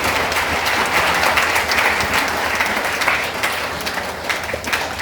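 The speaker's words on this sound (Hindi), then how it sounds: "जब भी अच्छे महसूस करो ताली बजाओ।" A seminar audience in Sitapur claps together in a dense, continuous wave of applause that stays loud and steady throughout, with no talking over it.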